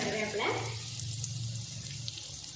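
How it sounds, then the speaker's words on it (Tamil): Curry leaves frying in hot oil for egg curry, a steady sizzle with a soft crackling hiss that stays fairly even and close throughout, with a brief low hum underneath. "கருவேப்பிலை வாங்க பொரிச்சிட்ருக்கு"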